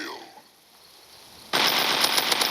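Gunfire in the shooter video game Strikops: after a quiet moment with a faint whistling tone, a loud rapid automatic burst of shots erupts and keeps rattling to the end.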